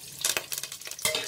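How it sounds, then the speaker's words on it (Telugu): Mustard seeds, cumin, fenugreek, garlic and curry leaves frying in a hot tempering, with bursts of close sizzling and crackling, some stirring, and brief lulls over a short stretch, with no voices. "ఆవాలు జీలకర్ర కొంచెం మెంతులు వేసుకున్నాం అండి ఎల్లుల్లిపాయి కరివేపాకు అండి తాలింపు దినుసులు"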